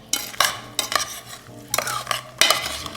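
A spoon stirs a cranberry, blueberry and sage chutney with orange in a bowl, giving several close, loud scraping and clinking bursts at uneven intervals with quieter swishing between.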